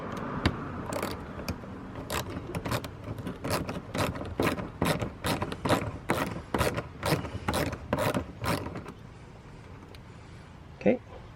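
A ratchet wrench working a bolt out of a Toyota RAV4 Prime SE during a fog light installation, about fifteen quick clicking strokes in a steady rhythm, then a pause and one last click.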